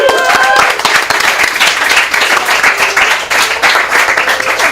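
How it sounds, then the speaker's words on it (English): A live show audience gives a big round of applause, loud dense clapping that holds steady throughout, with some faint voices mixed in. "Big round of applause."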